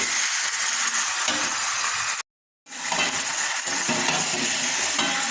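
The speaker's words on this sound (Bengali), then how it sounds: "দেখো মাছটা এবার ভালো করে কষাই করবো, অনেকক্ষণ ধরে একটু কষাই করবো।" Fish sautéing in hot oil in a pan while being stirred, a loud, continuous sizzling hiss with stirring scrapes, broken by a brief total silence midway.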